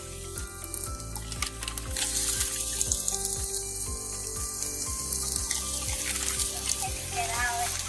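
Okra hitting hot oil in a pan gives a steady, close sizzle and hiss, with a soft rhythmic thumping underneath throughout.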